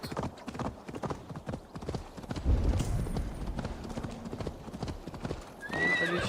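Horse hooves clip-clop in Assassin's Creed Valhalla, a quick, rhythmic run of close hoofbeats with a whinny near the end, while someone talks over them.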